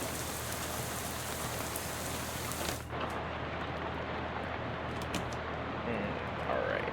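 Steady rain in the video game Shadows Over Loathing, a constant hiss of falling drops and patter on surfaces that continues evenly throughout, with a brief dip partway through and no voices.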